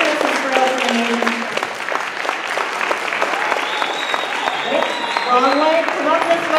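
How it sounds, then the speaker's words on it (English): An audience at a school Christmas event claps steadily and loudly, with scattered voices and whoops mixed into the applause. "let's give a really big round of applause to the students"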